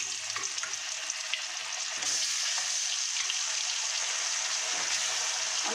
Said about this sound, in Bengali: আমি আর মাছটা বেশি কড়া করে ভাজবো না, হালকা ভাজবো